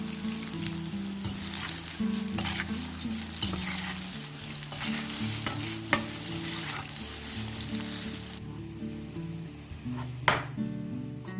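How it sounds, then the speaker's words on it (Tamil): Brinjal slices frying in oil for a Sri Lankan Muslim wedding meal, a loud continuous sizzle and crackle close by over a low steady hum, with scattered pan clinks and stirring scrapes. "இதை அப்படியே ஆயிலில் போட்டு ஃப்ரை பண்ணி எடுக்கிறேன்"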